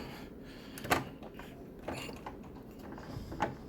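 Small plastic machine gun tabs snap into the back of a G.I. Joe Classified Air Chariot toy, a couple of sharp, close clicks spaced over a few seconds against quiet handling noise.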